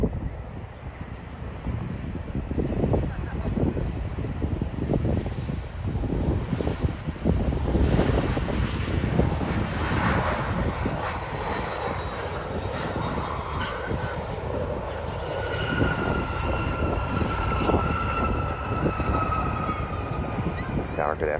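A Sun Country airliner lands on runway 12 right at Minneapolis, its engines rumbling and roaring steadily at a distance, with a higher whine rising later, while tower radio chatter runs underneath.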